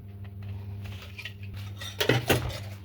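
Metal whisk and spoon clinking against a cake mixing bowl while baking a heart-shaped cake, a low steady hum beneath, then two loud bright clattering bursts of metal on the bowl near the end.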